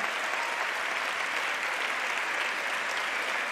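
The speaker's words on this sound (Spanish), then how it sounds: "¿Por qué hay hombres que aplauden esto?" Sustained, even applause from a large crowd at a political rally, a dense unbroken roar of clapping at steady volume that cuts off abruptly at the end.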